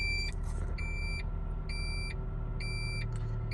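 A 2007 Toyota Tacoma four-wheel drive gives repeated electronic warning beeps while shifting from H4 to L4 fails to engage: four evenly spaced short chimes over a steady idling engine rumble, no talk.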